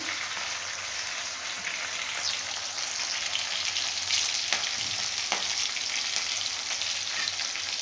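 Sliced vegetables frying in oil in a pan, a constant close crackling sizzle with a few sharp pops and scrapes, no voices.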